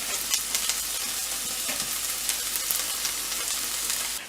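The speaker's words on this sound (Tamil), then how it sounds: "நெக்ஸ்ட்டு ஆனியன் அண்டு டொமேட்டோவை நம்ம வதக்கணும்" Onion and tomato sautéing in a pan for ridge gourd chutney, a steady close sizzle with soft stirring scrapes running throughout, no voices.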